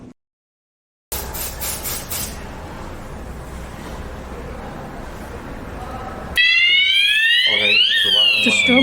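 After a stretch of hissy noise, a loud electronic siren from an addressable fire alarm strobe sounder starts whooping near the end, its pitch sweeping up and down.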